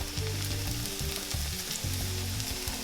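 Empanada dough strips fry in hot oil, giving a steady, close crackling sizzle for the whole stretch with a low, tonal hum running underneath.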